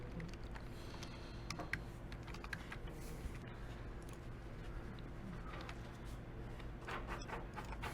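Quiet, steady typing on a computer keyboard, a soft irregular patter of key clicks over a low background hum, continuing for several seconds without talk.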